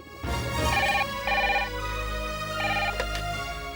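A telephone rings in a repeating electronic trill, sounding in three distinct bursts over a low background hum, clear and fairly close, with no talk.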